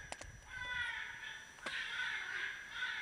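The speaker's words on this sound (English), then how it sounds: "So right now I'm playing crows and a rabbit" A remote-controlled electronic game caller plays crow calls outdoors: a few quick clicks open, then drawn-out raspy caws at moderate distance, faint and alone.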